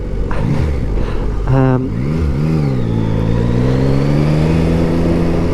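A Yamaha XSR900 GP motorcycle engine while riding on a road, with a low rumble that rises in pitch as it accelerates through gears, alongside steady wind noise and no talking.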